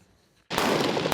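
Rifle fire at a live-fire reservist training exercise in Taoyuan, a sudden loud crack followed by sustained shooting that lasts to the end, with a second sharp shot near the close.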